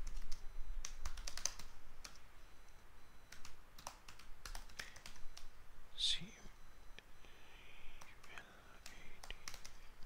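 Keys clicking on a computer keyboard while a simple calculator program in C is written, scattered taps at an irregular pace, fairly quiet against a low background hiss, with a faint whisper-like voice in places.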